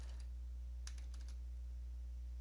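A few quiet keystrokes clatter on a computer keyboard in a short burst of clicks, then a single later tap, faint over a low steady hum.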